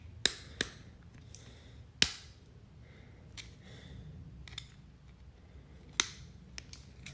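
Sharp metallic clicks and cracks from a wrench working loose a bolt on a SOG Snarl knife, a few distinct snaps scattered among quieter ticks and scrapes, close and fairly loud.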